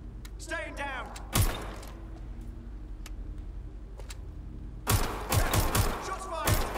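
Gunshots in the video game Watch Dogs Legion: a single sharp crack early on, then a rapid volley of loud, close shots near the end over a low ambient rumble.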